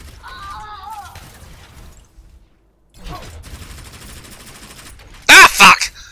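Gunfire in a video game, a brief loud burst of shots and crashing impacts near the end, after quieter game noise and a short pause.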